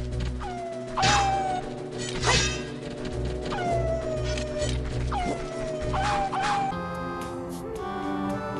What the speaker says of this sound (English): now I know where they released all the Wolfos that are howling around here